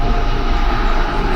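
A train passes close to a workshop, producing a loud, steady low rumble and broad roar that holds for the whole moment without letting up. No one speaks.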